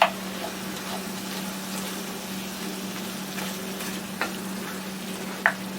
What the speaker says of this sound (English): I'm going to let this keep browning